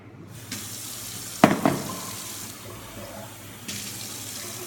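Tap water runs into a kitchen sink while rice is prepared, a steady close rush with a brief louder splash early on, then continuing flow until the end.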